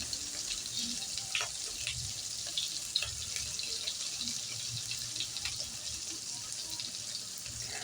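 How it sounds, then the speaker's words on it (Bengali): Paneer cubes seasoned with salt and turmeric frying in a pan while being turned over, a soft steady sizzle with scattered light clicks and scrapes of the pieces being flipped. "এভাবে উল্টে পাল্টে পনিরগুলোকে একটু ভেজে নিচ্ছি ভালো করে।"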